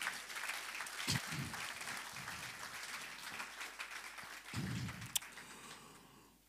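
A church congregation applauds at a Pentecost service, a steady wash of clapping that rises in waves and swells again near the end before fading out.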